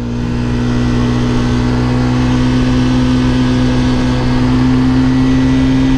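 A Hero Karizma XMR 210 motorcycle engine drones steadily while riding, a loud continuous mid-pitched hum with wind rush and no break across the whole stretch.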